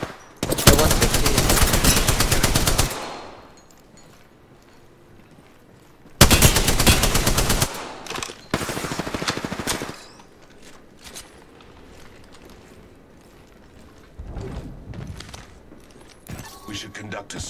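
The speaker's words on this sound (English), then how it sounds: "Opening fire." Gunfire in the video game Apex Legends: loud sustained automatic bursts, one long volley, a shorter pair of bursts, then a fainter burst later, with a voice talking in between.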